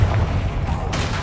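A Confringo blast spell from Hogwarts Legacy erupts as a dense, booming roar that holds loud and steady through the moment, with a brighter crackling burst near the end.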